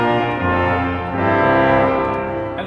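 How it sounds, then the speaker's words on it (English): Pipe organ sounding its 8-foot trumpet stop, a bright, reedy held tone rich in stacked harmonics, steady and loud, shifting pitch once or twice across the phrase with no voices. "We've got the trumpet 8-foot, sound like this"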